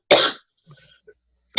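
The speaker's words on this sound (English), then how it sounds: "this cough kicked in on me" A person with a lingering cold coughs sharply at close range, one burst of harsh coughing followed by quiet throat noises and small breathy sounds, then another cough starts at the very end.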